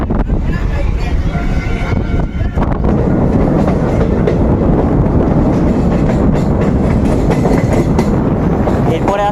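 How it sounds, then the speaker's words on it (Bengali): A passenger train, the Kanchanjunga Express, pulls out of New Farakka Junction with a loud, continuous rumble and rhythmic clatter of wheels on rails, heard up close from on board. "ছেড়ে দিল নিউ ফারাক্কা জংশন থেকে আমাদের ট্রেন"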